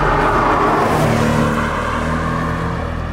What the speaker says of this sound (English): it has a bit more sonorous quality in the way that the exhaust flaps